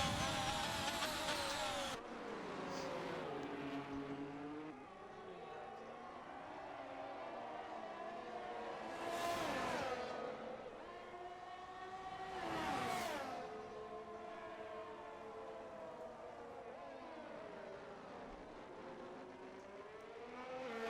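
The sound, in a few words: Formula 1 race car driving past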